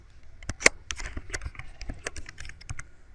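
Typing on a computer keyboard, entering a file extension: a quick, uneven run of crisp key clicks at close range, fairly loud, with no voice.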